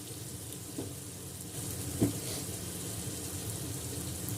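Chopped tomatoes with chili powder sautéing in a pan for a Bengali-style rohu fish curry, a constant close sizzle with a couple of faint stirring knocks.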